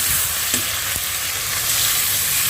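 Tomatoes frying in a pan give a loud, steady sizzle that runs the whole time, with a couple of brief knocks from stirring near the start.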